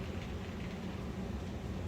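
A steady, continuous low rumble of a small Atlas GP40 DCC model train locomotive running along its track, close by and without any talking.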